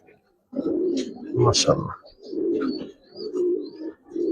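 Pigeons coo at a pigeon farm in Mirpur, Dhaka, low soft burbling calls rising and falling in several bursts, close by and mixed with someone talking over them.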